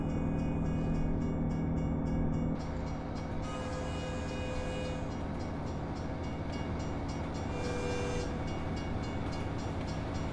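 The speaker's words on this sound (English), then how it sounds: "the trains are not long in the game" A freight train in American Truck Simulator rumbles past steadily, with its rolling clatter and a brief tonal horn-like note near the start.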